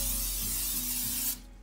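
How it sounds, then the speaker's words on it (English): Nonstick cooking spray hisses from a can into a warmed Dutch oven in one steady burst that cuts off abruptly near the end, leaving a faint background hum. "And I'm gonna spray it with a little nonstick spray."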